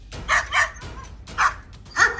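Quincy the dog barks in short separate yaps, four clear bursts spaced unevenly, close and moderately loud with no talking over them.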